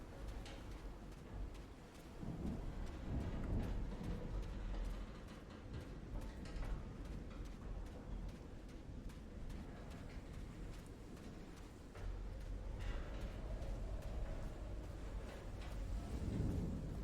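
Thunderstorm in the video game Call of the Sea, with rumbling thunder rolling over steady rain for the whole stretch, low and continuous with swelling peaks and no talking.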